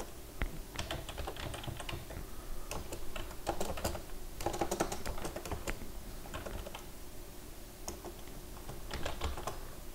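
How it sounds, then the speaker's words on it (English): Steady typing on a computer keyboard while entering lines of a program, with quick irregular bursts of clicking keystrokes close up and short pauses between runs of keys, no voices. "Let me just type in the last lines he had for me to type in here."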